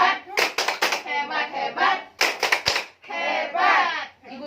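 A group gives a rhythmic cheer-clap during a training session at BBPPKS Yogyakarta, with several short bursts of sharp hand claps between stretches of chanting and talking voices.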